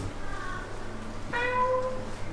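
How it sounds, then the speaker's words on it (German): A cat meows twice inside a car in a McLaren GT driving game, first a longer drawn-out mew and then a sharper, higher cry, heard over a low steady engine hum. "Oh, das ist die arme Katze geweckt."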